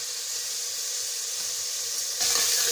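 Chicken and vegetables sauté in a pot for chicken noodle soup, a steady close sizzle and hiss that swells louder near the end.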